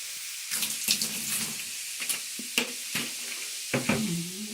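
Baking soda and vinegar bubble and gurgle in a clogged drain, fizzing with bursts of crackling hiss, interrupted by several sharp splashes and sloshes, close by with no talking.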